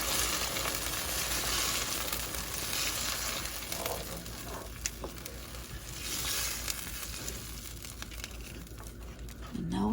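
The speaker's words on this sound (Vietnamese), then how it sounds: "Mình sẽ quậy đều luôn." Peanut dipping sauce made with nearly a bowl of coconut milk, stirred as it cooks in a pan: a continuous close sizzle and bubbling with faint scraping and clicks, and no talking.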